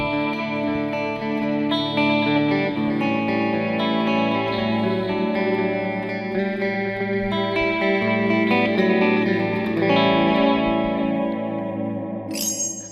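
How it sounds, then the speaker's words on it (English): Electric guitar played through a Line 6 Pod Go pitch echo delay effect, sustained chords and notes smearing into shimmering, pitch-shifted repeats that ring out continuously for several seconds before a bright, rising tail at the end; no talking. "Delay pitch echo."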